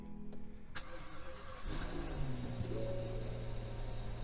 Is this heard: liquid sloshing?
no